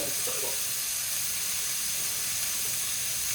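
A steak dropped into a very hot pan gives a steady, close hissing sizzle that holds evenly throughout, with no talking.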